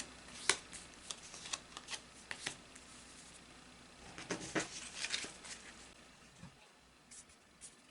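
Oracle cards being pulled from a deck and laid out, heard as soft card slides, snaps and flicks in irregular bursts, fairly close but quiet, with no talking.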